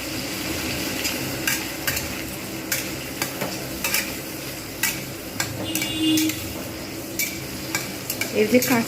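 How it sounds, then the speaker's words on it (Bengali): Prawns fry in hot oil in a pan while being stirred, a steady close sizzle punctuated by repeated scraping and tapping of a utensil against the pan, with no voices. "প্রথমে আমি চিংড়িগুলোকে ভেজে নেব"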